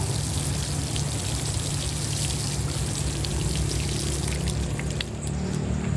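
Water poured onto soil in a flood-hit home garden splashes and patters in a dense, continuous stream, close and steady for several seconds with no talk over it.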